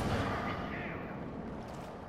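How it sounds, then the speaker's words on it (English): A rocket blast in Star Wars Battlefront: a loud, close, dense burst of explosive noise that rolls on and slowly fades over about two seconds. "Just hit that dude with a whole rocket."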